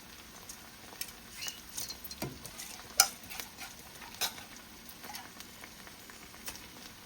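Basmati rice frying down in a pan with sauces, a soft sizzle under irregular stirring scrapes and light pattering clicks, quiet and close, no talking.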